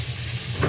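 Fish frying in a pan, a steady close hiss of sizzling oil with a brief swell of crackle near the end.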